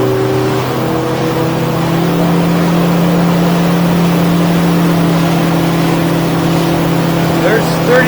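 A Yamaha F175XA outboard on a 2023 Stabicraft 2050 SuperCab drones loudly and steadily at about 35 mph, its pitch holding near constant with rushing water and wind noise throughout.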